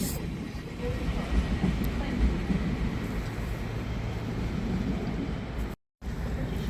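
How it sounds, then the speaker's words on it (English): Great Western Railway class 800 train for London Paddington leaving a platform at Reading station, a continuous loud rumbling roar with brief clanks, interrupted by a short dropout near the end. "Now departing is a Great Western Railway service to London Paddington"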